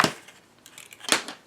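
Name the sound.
scissors cutting paper for mini album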